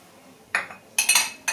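Milk powder, water and vanilla being mixed in a bowl, a few bright clinks and scrapes of a utensil against the bowl in short separate bursts, close and otherwise quiet.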